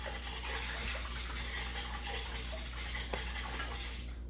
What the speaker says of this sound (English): I'm just going to keep stirring it because we don't want that to stick